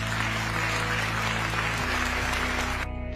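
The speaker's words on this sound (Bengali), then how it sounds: "আপনারা নিজেদের জন্য একটা জোরে করতালি দিতে পারেন।" Audience at a graduation event applauding the graduates, a continuous crowd of clapping at steady loudness over a low hum, cutting off abruptly near the end.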